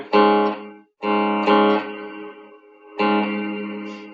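Three bright synth-like tones, each struck and left ringing with a long reverberant tail that smears and fades before the next.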